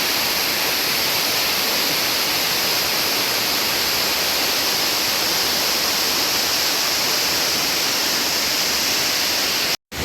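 Waterfall at Cachoeira da Mata in Mambaí, Brazil: a steady, loud broadband roar of falling water holding constant throughout, with no voices.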